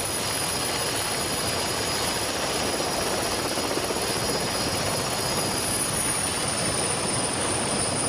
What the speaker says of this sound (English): The event helicopter, called into action to fly in parts for the stricken Turks, keeps an eye on the trekkers